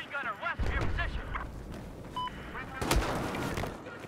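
Light machine gun fire in a video game: a short burst of loud rapid shots near the start, then scattered shots and a heavy blast near the three-second mark. Voices talk over it at the beginning.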